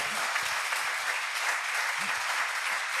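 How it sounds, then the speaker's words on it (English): An audience at a San Diego triathlon club event claps steadily in warm, sustained applause, a dense wash of hand claps with no pauses. "How about a round of applause for Mr. Joe Maloy?"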